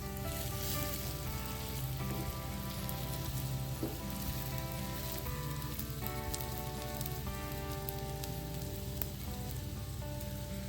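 A paneer kathi roll with mozzarella inside shallow-fries in oil in a pan, giving a steady, close, even sizzle like heavy rain that continues without a break and without any talking.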